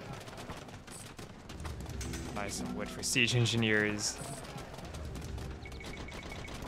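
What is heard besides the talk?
bombard cannons firing in video game Age of Empires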